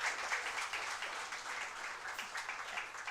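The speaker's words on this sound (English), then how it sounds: "Big clap!" A conference audience at a three-day international English department event applauds heartily, a dense, steady wash of many hands clapping that holds at a fairly even level throughout.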